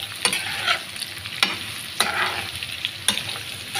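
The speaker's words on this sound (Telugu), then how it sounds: "ఇప్పుడైతే కట్ చేసి పెట్టుకున్న ముల్లింగడ్డలు అయితే వేసుకున్నాము" Thinly sliced radish sizzles in hot tempering oil as it is stirred, with a steady fry crackle broken by several sharp scrapes and knocks of the spoon against the pan, close by.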